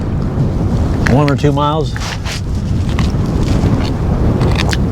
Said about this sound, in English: Wind has not let up.